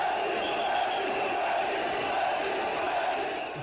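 A crowd cheers and shouts in a sustained roar during a mock presidential election podcast, a dense wash of many voices holding steady, loud and close, then easing slightly at the end.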